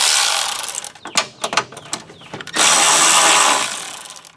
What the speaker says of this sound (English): Got that on my ratchet, and we're gonna rip it off.